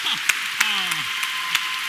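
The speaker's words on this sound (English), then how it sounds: "huge round of applause" Audience applause at the Inside Gearbox panel at PAX Prime 2015: a steady wash of clapping from a crowd, with a few sharper individual claps standing out and a voice heard briefly over it.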